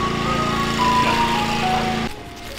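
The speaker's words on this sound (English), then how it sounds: "Had to get some ice cream from the ice cream truck" Ice cream truck passing on a street near a home garage during a Miata LS swap, its tonal jingle and engine drone steady and fairly loud before cutting off abruptly near the end.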